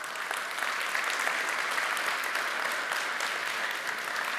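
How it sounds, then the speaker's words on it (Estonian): A crowd at an energy technology department day applauds, a continuous dense clapping that stays even and fairly loud throughout, with no speech over it. "palun ühe suure aplausi veel Estisele."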